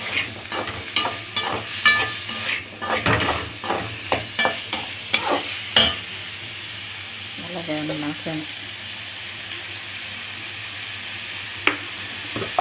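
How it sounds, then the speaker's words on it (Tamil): Onions with ginger-garlic paste sautéing in oil for chicken gravy, a spatula scraping and stirring in quick repeated strokes over a steady background sizzle, then the stirring stops and only the faint fry remains. "நல்லா அதை வதக்குறோம்."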